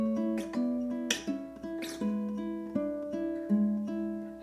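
A ukulele plays a gentle melodic passage of plucked notes from a classical piece at an even pace, fairly quiet and close, with no voices.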